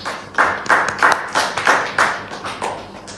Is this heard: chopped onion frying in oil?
no